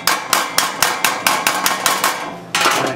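Hammer striking sheet metal held off-dolly during restoration of a 1940s Harley Servicar utility box, with about eleven sharp, evenly spaced metallic blows, loud and close with no talk.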